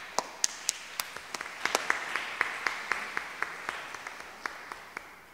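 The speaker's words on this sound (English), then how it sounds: "Let us give them a big round of applause." Scattered, sparse hand claps from a church congregation at Sunday Mass, honouring a married couple; individual claps ring out distinctly in a reverberant hall at a moderate distance, fairly soft overall.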